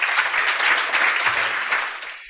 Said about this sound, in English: Big round of applause for the group.